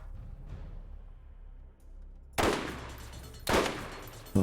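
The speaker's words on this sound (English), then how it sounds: "Bring out the sniper rifle." Sniper rifle fire in the video game Borderlands, two sharp, loud single shots about a second apart over a low in-game ambient rumble.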